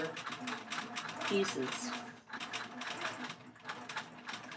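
A sewing machine quilting a pillow runs in steady rapid bursts of stitching with a short pause midway, heard under a woman's close, continuous speech.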